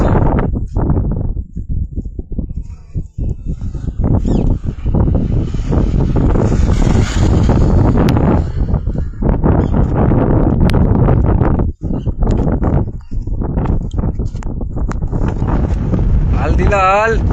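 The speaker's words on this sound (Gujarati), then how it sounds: "જો શું પવન આવે છે." Strong wind blows beside a river, roaring and buffeting the microphone almost without pause across the clip, loud and close, with people talking underneath.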